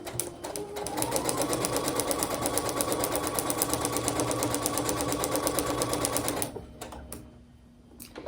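Sewing machine stitching a quilted table runner, a fast rhythmic needle chatter running steadily for several seconds, then stopping and leaving a quiet pause with a brief restart near the end.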